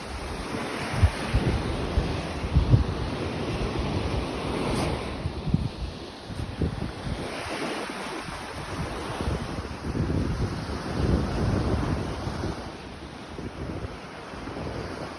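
Steady sea surf rolls on with gusting wind buffeting the microphone, a continuous rushing wash with no voices.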